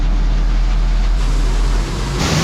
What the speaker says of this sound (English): Start up, auger.